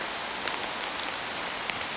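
Steady rain falls on a forest while mushrooms are being gathered, a dense, even patter of drops on leaves and surfaces with a few sharper nearby drips and no voices.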